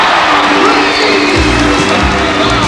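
Arena crowd at a 1988 Australian NBL basketball game between the Perth Wildcats and an opponent, cheering a made three-pointer: a loud, dense roar of cheers and whoops filling the hall, swelling midway with a low rumble.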